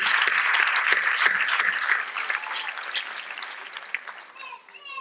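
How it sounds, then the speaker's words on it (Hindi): Loud applause from an audience at a special kids' talent show in Indore, India, honoring a young performer named Narendra; dense clapping holds for several seconds, then thins and fades toward the end. "एक बार जोरदार तालियां हो जाए नरेंद्र जी।"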